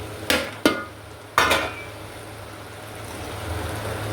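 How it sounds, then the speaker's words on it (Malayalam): Chicken being stirred into masala in a pan: three sharp metallic clanks of a utensil against the pan, then a soft continuing scrape and faint sizzle. "ചിക്കനിട്ട് നന്നായിട്ട് ഇളക്കുക, മിക്സാക്കുക."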